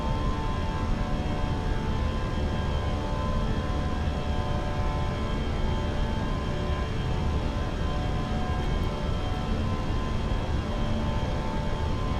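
Fenix A320 jet engines spooling at climb thrust in MSFS 2024, a steady, loud broadband roar with a constant hum that holds unchanged throughout, no voices.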